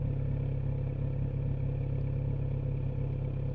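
A 2020 Kawasaki Z900RS trickling along at about 5 mph with no throttle, giving a steady low engine drone with even, unchanging rumble and no revving.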